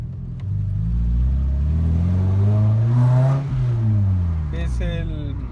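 A car engine revs up and back down near the intake manifold, a loud steady rumble that swells to a peak and eases off, with a brief whine near the end.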